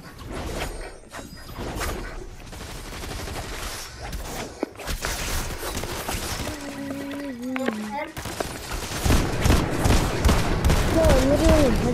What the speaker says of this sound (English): I'm just shooting over there.